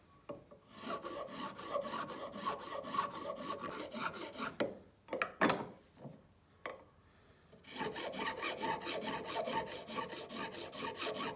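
Hand filing a metal piece held in a vise makes a close rhythmic rasp of quick back-and-forth strokes, with a pause broken by a few knocks and scrapes before the steady filing resumes.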